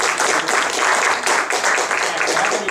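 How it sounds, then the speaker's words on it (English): An audience at an event gives a warm round of applause, a continuous wash of many hands clapping, fairly loud and even, with no clear pauses. "Warm round of applause."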